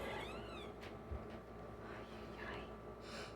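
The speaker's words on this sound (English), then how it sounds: "Sorry, that was a cat." A cat named Mufasa meows indoors after pushing open a door, a few short faint cries with softer rustling between them, heard fairly close.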